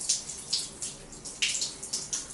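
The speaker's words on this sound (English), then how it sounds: "so I'm going to rinse it off" Water from an overhead rain shower splashing onto a scalp during rinsing, a close, soft hiss broken into repeated uneven bursts as the head shifts under the spray, with no voices.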